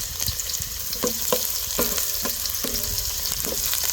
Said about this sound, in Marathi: आता एक पळी तेल गरम झाले कांदा टाकायचा